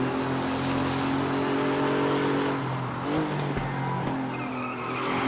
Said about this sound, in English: we can get a big lurid slide on there and we're still okay